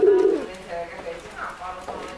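Silver-grey racing pigeons coo in a loft: a deep, rolling coo opens close and loud, then softer murmuring coos follow, with someone talking over them.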